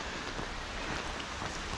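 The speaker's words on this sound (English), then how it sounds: "This rain is really something." Steady rain falls along the Camino Frances between Sarria and Palas de Rei, a dense, even hiss of drops filling the whole stretch with no voices.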